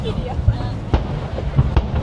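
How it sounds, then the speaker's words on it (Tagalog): Fireworks bursting at a festival display in Yokohama, Japan: four or five sharp, echoing bangs at irregular intervals over a steady crowd murmur. "Ngayon lang ulit ako nakapanood ng fireworks."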